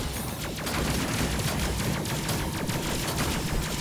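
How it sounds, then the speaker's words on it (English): A railgun turret fires repeatedly in the spaceship video game Space Crew, a dense, fairly quiet stream of crackling bursts that runs steadily throughout with no speech. "that's a railgun isn't actually bad. It does hit quite a lot because of its speed"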